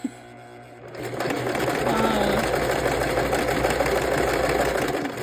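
A foot-pedal sewing machine stitches lace for a fabric collage journal, starting after a brief quiet moment and then running as a steady, close, continuous mechanical whir to the end.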